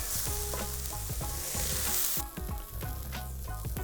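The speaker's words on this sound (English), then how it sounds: "You can also add a little bit of salt at this point, and what that will do is help the onions sweat" Onions fry and sweat in a hot pan, a loud, continuous close sizzle with repeated stirring scrapes at an uneven rhythm and no talking.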